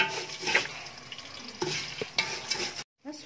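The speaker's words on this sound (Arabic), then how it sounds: "هنحمر التومة ونحمر الشعرية في نفس الوقت" Garlic and vermicelli fry side by side in a pan, a soft close sizzle broken by several sharp scrapes and clinks of a spoon stirring, with a brief silence near the end.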